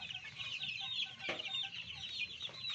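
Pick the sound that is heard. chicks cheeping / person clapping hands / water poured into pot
chicks cheeping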